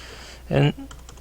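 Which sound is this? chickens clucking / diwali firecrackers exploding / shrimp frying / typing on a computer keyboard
typing on a computer keyboard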